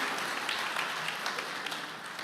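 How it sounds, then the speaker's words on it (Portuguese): A church congregation applauding during a sermon, a short burst of soft, fairly distant clapping that holds evenly throughout. "aplauda a palavra do Senhor mais uma vez"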